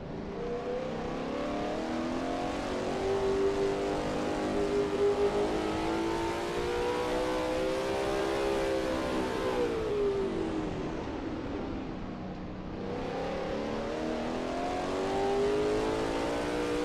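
A Lola T70 MkII Spyder race car's engine screams at high revs in a racing sim at Sebring. The steady, loud drone dips as the car downshifts through a chicane, then climbs again under acceleration, with no voices.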